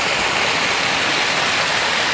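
Water gushes steadily from a hose into a backyard pool being filled, a dense, unbroken splashing hiss up close.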